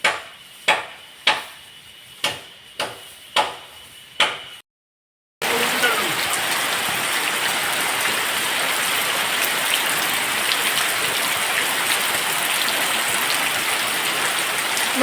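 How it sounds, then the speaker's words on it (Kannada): Heavy rain pours down in a steady, dense roar after a short run of rhythmic knocks and a brief moment of silence. "ನನ್ನ ಅಕ್ಕ ಹೇಳುದು ಇಲ್ಲಿ ಮಳೆ ನಿಲ್ಲುವುದಿಲ್ಲ ಅಂತ"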